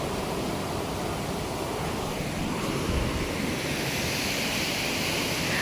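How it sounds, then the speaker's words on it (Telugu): A river flows with a steady, even rush of water, heard as a continuous broadband wash that never pauses. A faint wind-like hiss blends into it, and no one speaks. "ప్రశాంతంగా ఆ వాటర్ సౌండ్"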